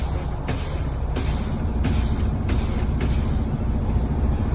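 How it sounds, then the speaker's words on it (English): Truck air brake system, built to hold 120 to 140 PSI, letting off a series of short hissing bursts of air about every 0.7 seconds over a steady idling engine rumble, heard from near the cab. "we're listening for a burst of air"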